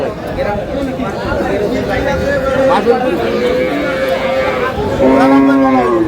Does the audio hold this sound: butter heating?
no